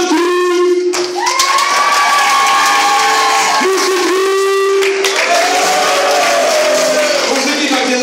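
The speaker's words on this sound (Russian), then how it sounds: "орут, кричат, хлопают" Crowd of girls screaming, shouting and clapping loudly in a contest to be the loudest, with high sustained shrieks and cheers over steady applause.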